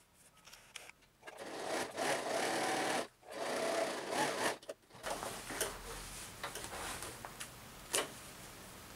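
Sewing machine stitching a zipper seam in short bursts, close whirring runs broken by brief pauses, then quieter fabric handling and clicks.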